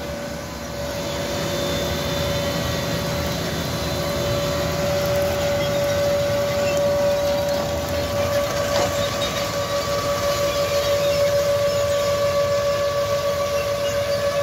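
A Case Steiger 420 tractor pulls a 45-row corn planter through a field, its engine giving a steady, loud drone with a sustained tonal whine across the whole stretch and no voices.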